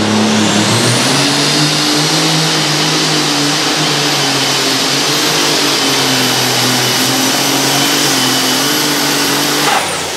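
A superstock pulling tractor of about 4000 horsepower roars at full power at the Ahoy European Superpull tractor pulling event, a loud, sustained engine blare that holds steady for the whole stretch and cuts off at the very end.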